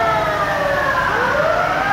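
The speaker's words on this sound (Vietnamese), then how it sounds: "Khu vực này nghe tiếng còi hú inh ỏi, nằm trên nhiều bệnh viện lớn tại khu vực Chợ Lớn." Wailing ambulance sirens along a street in Cho Lon, District 5, an area with several large hospitals, loud and continuous, with overlapping siren tones over traffic noise.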